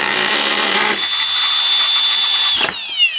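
A Milwaukee FUEL cordless screw gun fitted with a Milwaukee carbide bit drives a drywall screw. The motor whines steadily and loud, then stops with a click and the high tone winds down, with no talk.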